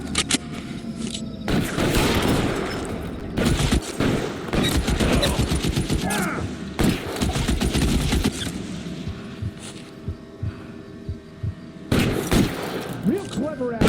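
Gunfire from a shootout in the video game L.A. Noire, with rapid bursts and volleys of shots that come and go, loud and dense, heard alongside shouted speech.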